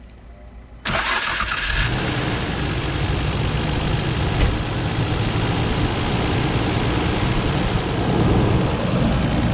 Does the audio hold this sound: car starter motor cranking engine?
yes